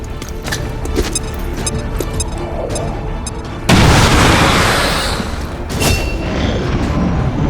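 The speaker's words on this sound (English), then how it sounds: "Grenade!" A grenade explodes in XCOM 2: War of the Chosen, a sudden loud broadband blast that bursts out midway and rumbles on, with a second burst shortly after over constant game background noise.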